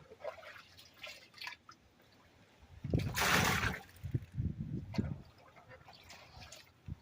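Acid liquid being drained out of a bucket, a steady low pouring and trickling with dripping that swells midway and then tapers into intermittent splashes, fairly close and moderately loud.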